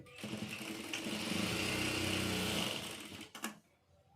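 A sewing machine runs steadily for about three seconds as it stitches back tucks into a garment with contrasting thread, then stops with a brief clatter.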